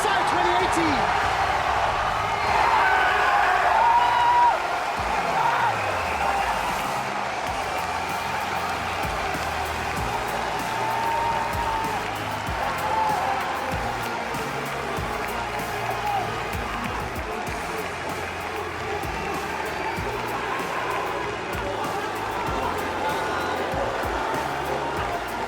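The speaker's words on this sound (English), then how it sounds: "Listen to France as they are cheering" An arena crowd in France cheers and applauds through the 2018 MSI esports final between RNG and KZ, a steady broad roar running under continuous commentator speech for the whole stretch.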